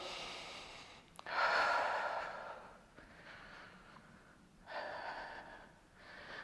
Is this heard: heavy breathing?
yes